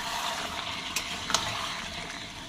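Biryani with fried potatoes and fried onions being stirred in a pot, a continuous sizzle with a couple of scraping spoon strokes against the metal.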